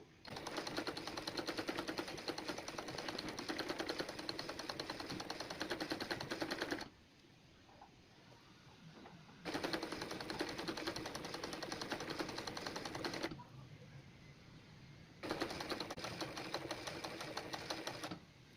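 A sewing machine stitches ball chain embroidery in three long bursts of rapid, steady needle clatter, separated by quieter pauses. The sound is close and loud, with no talking.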